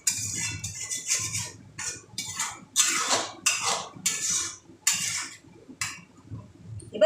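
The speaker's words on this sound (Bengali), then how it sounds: "প্রথমে অল্প জল দিয়ে ভালো করে পুরো মশলার সাথে মিশিয়ে নিচ্ছি।" Spice paste for a spicy katla fish curry with poppy-like seeds being stirred with a little water in a pan, giving a series of scraping, clinking strokes of a utensil against metal, close and fairly soft, with no talking.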